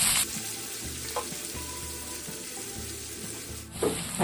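Sliced onions fry in hot oil for poori masala, a soft, steady sizzle heard up close, with a brief louder clatter at the start and another near the end as the pan is stirred.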